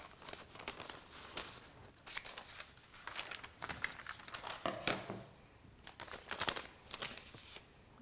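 Plastic sheet crinkles and crackles close by as a handle pattern is cut out for a clay ladle, with irregular snips and rustles throughout.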